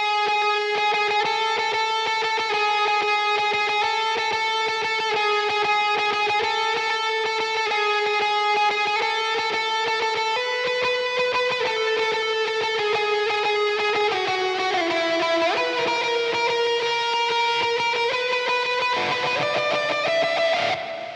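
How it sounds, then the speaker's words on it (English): A distorted electric guitar plays a sustained lead line, held notes sliding between pitches, loud and continuous without any voices. "the very last thing for the guitar is going to be this lead pattern"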